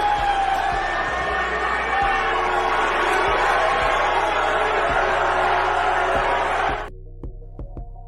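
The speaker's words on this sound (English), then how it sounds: "Now, she was booed heavily during that time." Large wrestling arena crowd booing Liv Morgan, a loud, sustained roar of jeers and shouting from thousands of fans that cuts off abruptly near the end, leaving quiet room sound.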